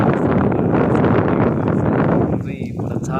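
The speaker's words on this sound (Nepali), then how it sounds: "हावा चाहिँ मिठो चलिरहेको छ कि शीतल भइरहेको छ।" Cool wind blowing outdoors, a steady close rush and buffeting across the microphone that eases slightly near the end.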